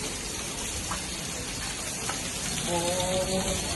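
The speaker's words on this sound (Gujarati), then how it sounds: "જો લાઈવ વરસાદ વરી રહ્યો છે" Heavy rain pours down in Surat, India, in a dense, continuous hiss, close and steady throughout, with a faint tonal sound near the end.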